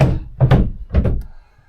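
Two or three heavy thunks in quick succession, like doors being shut nearby aboard a Sealine 365 Sportbridge boat, then quiet.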